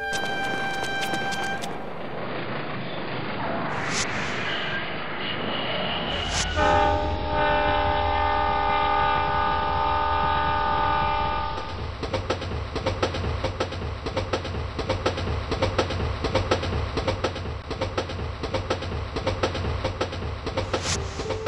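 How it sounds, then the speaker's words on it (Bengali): A train rushes past at speed, rumbling and clattering rhythmically on the tracks, with loud horn blasts near the start and a continuous roar throughout. "প্রচন্ড গতিতে ট্রেন চলছে"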